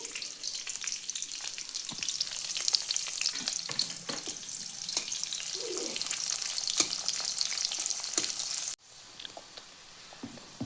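Fish fry in hot oil with green chilli and chopped onion, giving a steady bright sizzle and crackle. Occasional utensil clinks and stirring break through, and the sizzle briefly drops quieter near the end.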